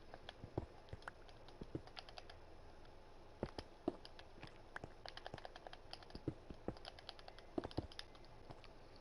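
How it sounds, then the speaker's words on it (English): Rapid clicking of computer buttons during Minecraft play, a quiet irregular patter of sharp keyboard and mouse clicks in quick bursts, close to the microphone with no talking. "you can probably, like, hear the rapid clicking of the buttons"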